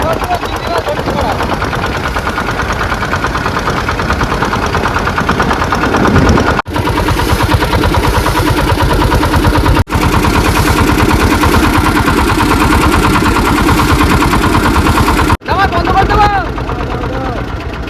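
A loud, close engine on a large shrimp-laden fishing boat throbs steadily on a Sundarbans river in foggy winter, with brief cut-offs and voices talking over the continuous drone.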